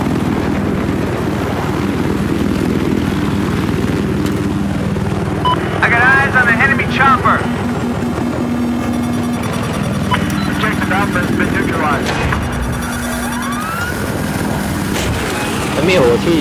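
A helicopter in the Battlefield 4 video game gives a continuous low rotor and engine drone, steady and fairly loud, while players chat and laugh over it.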